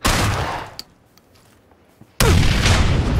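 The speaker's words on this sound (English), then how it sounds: "I have a nade. I'm gonna throw it in." A grenade blast in PUBG, a loud broadband burst that fades quickly, followed after a brief quiet gap by another sudden, sustained loud blast.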